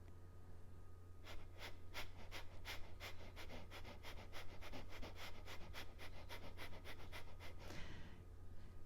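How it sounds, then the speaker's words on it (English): Rapid, rhythmic panting breaths through the mouth, a recorder players' breathing exercise, come as a run of short, evenly spaced puffs, close and fairly soft, then trail off into a longer breath. "we, as recorder players, would do the exercise of the panting dog. So that's the same, but through the mouth."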